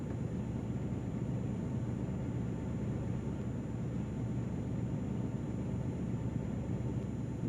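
A DA20-C1 light aircraft engine idles in a flight simulator game, a steady low droning hum with an even, unchanging tone and no talking over it.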